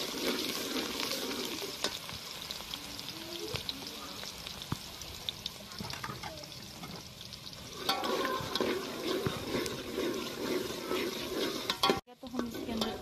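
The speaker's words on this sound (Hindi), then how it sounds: "दो प्याली हमने घी लिया है। अब इसके अंदर हम प्याज कटी डाल रहे हैं।" Chopped onions fry in hot ghee for cabbage koftas, giving a continuous loud sizzle with scraping stirs and bubbling that swells midway and stays dense to the end.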